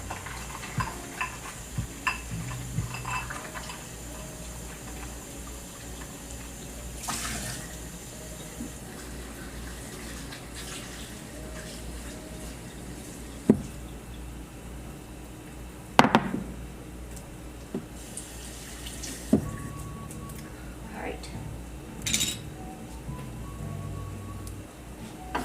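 Tap water runs into a container to soak and defrost frozen crab for Vietnamese bun rieu, a steady close wash with intermittent clinks and knocks of handling, no voices.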